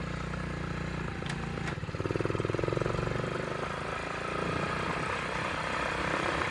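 A small pit bike engine drones steadily while riding in fourth gear, a pulsing mechanical hum with a brief rhythmic throb, close and continuous, mixed with wind noise.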